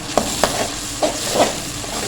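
Masala with red chili powder roasting in a cooking pot, a loud, steady sizzle with a few distinct stirring scrapes spaced through it and no talking.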